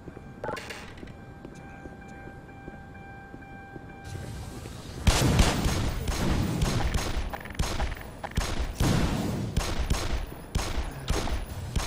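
Rapid bursts of gunfire in the Black Mesa video game, starting with a faint shot and tones, then loud repeated volleys of close shots filling the second half.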